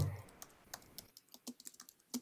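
Quiet, close typing on a computer keyboard: a short run of irregular key clicks and taps with brief pauses, no talking.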